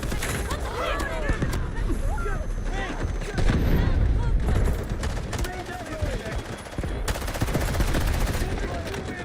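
Gunfire in the Delta Force video game: dense automatic bursts and repeated shots crackle continuously near and loud, mixed with game radio voices calling out over the shooting.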